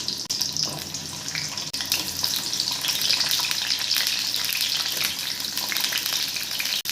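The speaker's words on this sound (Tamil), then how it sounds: "பூண்டும் சின்ன வெங்காயமும் இந்த எண்ணெயில் ஒரு முக்கால் பக்குவத்துக்கு வெந்தால் போதுங்க" Shallots and garlic fry in hot oil for vatha kuzhambu, a loud, dense crackling sizzle that runs steadily throughout, close up and without talk.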